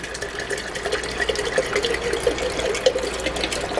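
Steady pouring of plain white vinegar into water for pickling gherkins, a continuous watery gurgle and splash that holds at an even level for a few seconds, with no voices.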